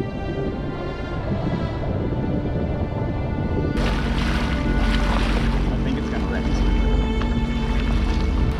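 A jet ski engine roars steadily while cruising on the sea, with rushing water and wind noise, growing louder and fuller partway through.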